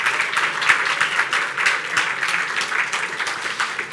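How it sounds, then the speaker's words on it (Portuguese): A church congregation applauds the fathers at a service, a steady dense burst of clapping from many hands that carries on without pause for several seconds. "Vamos dar uma salva de palmas a todos os nossos papais."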